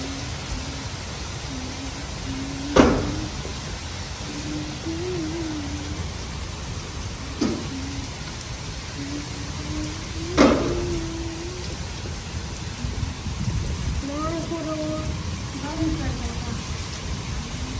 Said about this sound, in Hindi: बारिश इतनी तेज हो गई लेकिन अंधेरा है